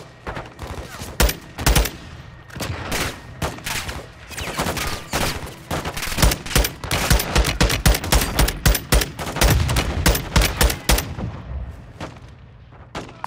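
Dense, rapid bursts of gunfire and explosive cracks ring out during a gun run in the Call of Duty: Modern Warfare II campaign, loud and relentless for several seconds before thinning out.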